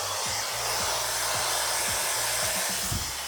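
A T3 Aire 360 Pro hair dryer running nearby, giving a loud, steady airy roar with a constant motor hum underneath, heard alone without talk.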